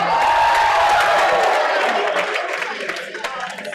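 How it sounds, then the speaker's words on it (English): Wedding reception guests clap and cheer for the DJ, a loud burst of crowd applause mixed with whoops and shouts that gradually thins out and fades over a few seconds. "How about a round of applause for me?"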